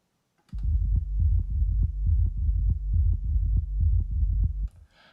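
A kick drum layered with three sub bass sounds, a deep, booming low-end pattern of steady throbbing pulses played alone for about four seconds before it stops abruptly.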